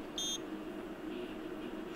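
A rare Audi Q8 alternator on a test rig gives a short electronic beep as it starts charging, a single high chirp early on over a low steady electrical hum.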